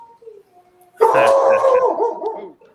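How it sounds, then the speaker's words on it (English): A dog lets out a single loud, drawn-out howl close by, rising sharply and holding for about a second and a half before trailing off, after a few faint whimpers. "Oh, even your dog didn't like that."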